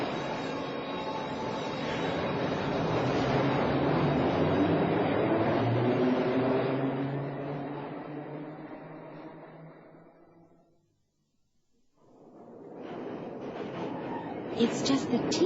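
An underground train hurtles through a tunnel in a radio drama, a loud rumbling roar that swells, then fades to near silence before a rattling burst returns, and voices appear briefly.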